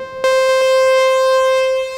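A Moog Sub 37 synthesizer, recorded dry into Ableton with Valhalla Vintage reverb, sounds one bright sustained note that starts abruptly, holds steady, then softens into a fading tail.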